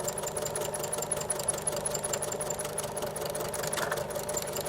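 Sewing machine running steadily while edge stitching a fabric face mask, a continuous close mechanical whir and rapid needle patter with no talking.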